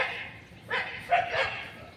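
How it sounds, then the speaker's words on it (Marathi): Dogs in a garden give a few short barks and yips at a moderate distance, in two or three quick bursts against a quiet outdoor background. "या गार्डनमध्ये डॉग आहेत"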